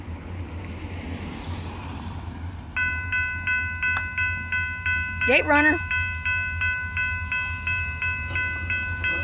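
Kiamichi Railroad freight train passing at a crossing in Idabel, Oklahoma, with a steady low rumble of rolling cars and a ringing crossing bell that starts partway through, while a brief voice speaks over it.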